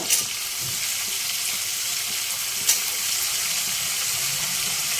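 Tomato and brinjal pieces frying in a hot pan while a mixed-vegetable chutney is cooked, giving a steady, loud broadband sizzle that holds for the whole stretch, with a couple of brief sharper crackles.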